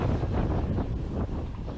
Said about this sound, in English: wind gusts are still 50 to 70 miles an hour, headed right to the ocean